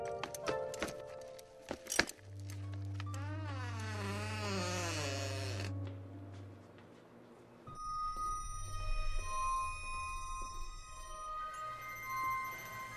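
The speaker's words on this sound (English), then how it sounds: "My PKE integrated cell phone seems to be malfunctioning." A malfunctioning PKE integrated cell phone gives off warbling electronic tones over a low hum, then a steady, layered electronic whine with high sustained tones, loud and close, with no talking.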